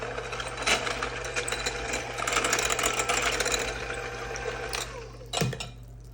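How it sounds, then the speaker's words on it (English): Muffin batter with egg substitute and vanilla being mixed, giving a steady, continuous motor-like whir that runs the whole time with small rises in loudness and a brief swell near the end. "Let's give it a good mix."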